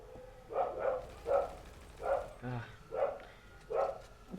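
A dog barks repeatedly in short bursts, about seven barks spaced roughly half a second apart, fairly close and moderately loud.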